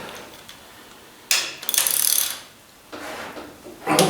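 A ratchet wrench clicks on the cylinder head bolts of a Ford 800 tractor, working in a few short, close bursts of rapid ratcheting with quiet pauses between.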